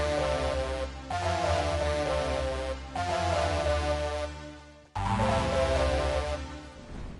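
Fortnite music blocks play a synthesized melody in sustained chords that restart in three phrases, steady and fairly loud with no voices.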